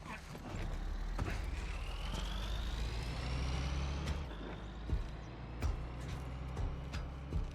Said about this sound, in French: Véhicule qui se barre.